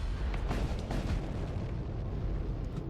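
A storm cannon fires in the sci-fi strategy game Void War, a continuous rumbling barrage of deep booms and bursts that stays loud and dense throughout, with no voices.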